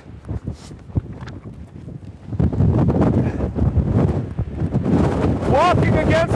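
Strong wind buffets the microphone outdoors, a loud, rough rumble that builds after a quieter start and stays steady, with a person speaking over it near the end.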